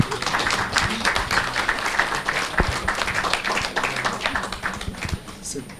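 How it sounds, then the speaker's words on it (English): An audience at a televised English-language event claps steadily, a dense continuous patter of many hands that holds for several seconds before thinning at the end, with a voice speaking over it. "let's clap for her, please"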